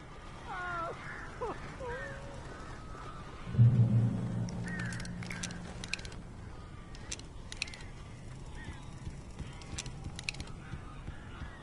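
Strange bird calls echo through a quiet outdoor scene in the video game Alan Wake, with honking, goose-like cries and creaky chirps scattered over low ambient noise and a brief louder thump near the start.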